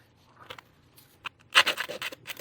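A 100-grit nail file rasps across the sharp edge of a UV resin pendant, first in faint scattered scrapes, then in a run of quick, close strokes.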